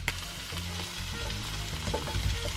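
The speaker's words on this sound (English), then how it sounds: "You guys hear that sizzle now, don't ya?" Vegetables, including red bell pepper, sizzle steadily in a frying pan, a continuous crackling hiss with occasional stirring scrapes, close by.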